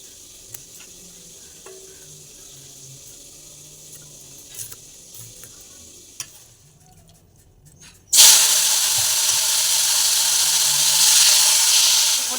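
Water heating in a pot to steam yardlong beans gives a loud, steady steam hiss that starts abruptly partway through and holds, following a quieter stretch of faint kitchen noise and light clicks.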